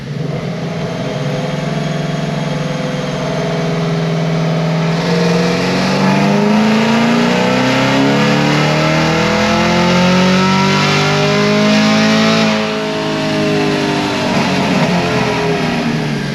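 A supercharged, blower-equipped car engine winds up hard on a dyno during a final pull, a loud sustained roar whose pitch climbs steadily, peaks, then eases back down, with no talking over it.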